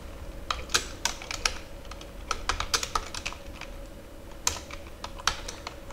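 Typing on a computer keyboard to fill in an online course admission form, with irregular bursts of crisp, close key clicks and short pauses between them.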